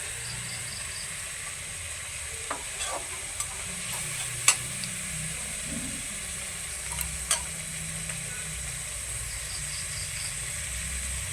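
Spice paste with chopped tomato fries in a pan with a steady, close sizzle, broken by a few scattered light taps of the stirring utensil, with no talking.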